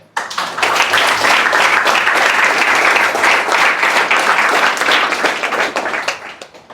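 Loud, sustained applause from a gathered crowd at a training-related event, dense clapping rising quickly and holding steady for several seconds before tapering off at the end.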